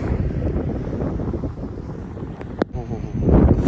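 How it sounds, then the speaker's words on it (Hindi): Strong gusting wind buffets the microphone on a high mountain road on the route to Chitkul near Shimla, a loud continuous roar with swelling gusts and no speech. "इतनी तेज हवा चल रहा है भाई, फुल तेज हवा चल रहा है।"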